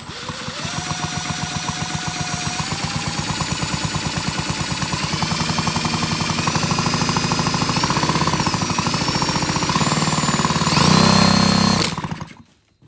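Husqvarna 125B leaf blower's small two-stroke engine turned over slowly while cranking, a steady rapid mechanical chatter running for about eleven seconds before a brief louder burst and a sudden stop.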